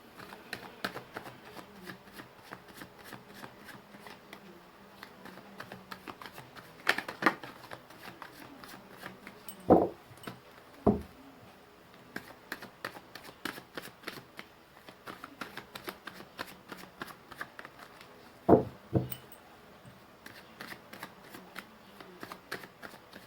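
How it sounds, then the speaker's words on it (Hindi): Tarot cards shuffled by hand in a steady run of soft riffling and flicking, with a few sharper snaps and taps standing out, heard close and alone. "मैंने कर ली है कार्ड्स की सफलिंग"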